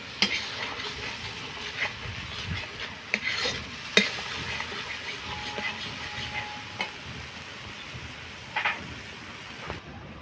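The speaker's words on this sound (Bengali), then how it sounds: "এবার আমি ভালো মতন কষে নেব মশলাটা" Masala spice paste is stir-fried in a pan: a soft continuous sizzle with scattered scraping and clinking of a spoon against the pan, fairly quiet and close.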